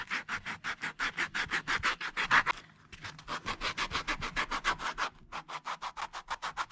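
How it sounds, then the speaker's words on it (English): Rapid back-and-forth scratching of sandpaper on Crocs shoes, close up, in a quick regular rhythm with two brief pauses. "I'm just going back and forth all the way around, sanding everything down"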